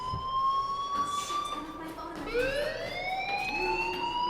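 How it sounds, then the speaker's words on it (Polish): A school fire alarm in the video game Life Is Strange wails with rising electronic siren sweeps, fairly quiet and continuous, with faint talk mixed in. "Do you hear that fire alarm? That means you should be outside."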